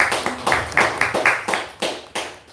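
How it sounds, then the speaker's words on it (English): A small class audience claps briefly, a sparse run of about ten distinct handclaps in an uneven rhythm, close and fairly loud in a room. "round of applause"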